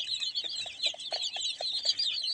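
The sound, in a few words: local chickens clucking on a poultry farm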